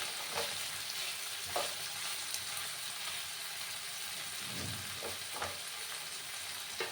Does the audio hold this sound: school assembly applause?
no